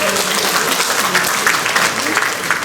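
A crowd at an NTT Mart Online launch event in Nusa Tenggara Timur claps for the provincial craft council, a loud, continuous burst of applause with faint voices mixed in.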